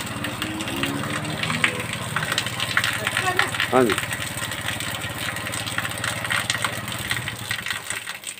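A motorcycle engine idles as it drives a water pump in a makeshift tank-filling setup, its steady mid-pitched drone running throughout with a brief voice over it.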